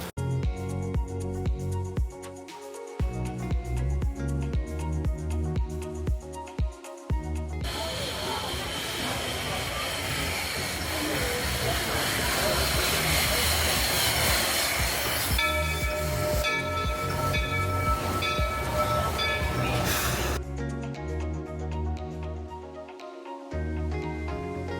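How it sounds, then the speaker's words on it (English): The Magic Kingdom steam train at Disney chugs and hisses nearby, releasing a long loud burst of steam midway, with musical tones and mechanical clanking before and after. "The Magic Kingdom steam train is one of the park's most iconic and nostalgic"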